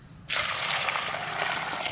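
Water gushes suddenly from a container over freshly caught country crabs being washed after a turmeric scrub, a close, steady splashing pour that starts abruptly and runs on without pause.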